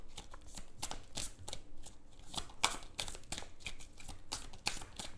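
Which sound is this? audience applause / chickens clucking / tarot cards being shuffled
tarot cards being shuffled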